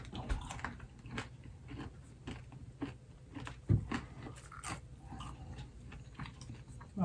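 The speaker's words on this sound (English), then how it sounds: "Can you hear that crunch? That's a good piece of bacon." Crunchy cooked bacon from an air fryer being bitten and chewed close up, with a run of crisp, irregular crunching bursts that continue throughout, alone without talk.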